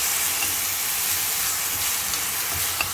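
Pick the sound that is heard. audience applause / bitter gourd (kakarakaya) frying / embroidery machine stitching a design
bitter gourd (kakarakaya) frying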